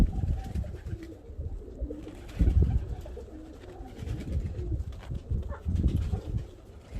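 A pair of German Demkeş pigeons, large birds with feathered feet, coo in low, repeated bursts close by, with soft rustling between calls.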